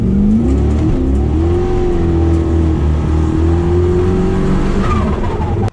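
A turbocharged race car engine revs hard and steady at full throttle for a burnout, loud and close, with a rising and falling drone that holds for several seconds before cutting off.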